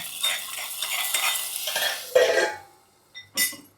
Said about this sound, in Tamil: தாலிசை வந்து நல்லா முருகலாயிடுச்சு நம்ம வந்து இதில் கொட்டிட்டு டக்குன்னு மூடி வச்சிடலாம்